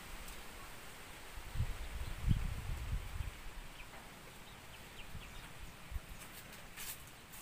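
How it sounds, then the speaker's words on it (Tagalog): Faint, steady rustle of leaves stirred by wind outdoors, a continuous soft hiss with a few slightly louder gusts early on and distant bird or animal sounds. "Wow, ang hangin oh."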